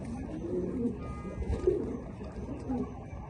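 Soft, low cooing of homing racing pigeons repeats a few times over a muffled background hum, fairly close but gentle.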